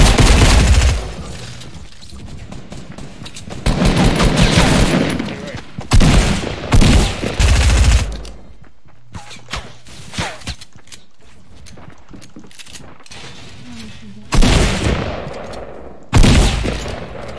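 Gunfire in the video game Fortnite: loud, close bursts of rapid shots in several volleys separated by quieter gaps, with sharp single cracks later on.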